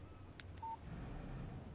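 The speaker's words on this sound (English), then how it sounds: "Text message from Barry" Phone text-message alert in the Alan Wake video game: one short, faint electronic beep over a quiet game background.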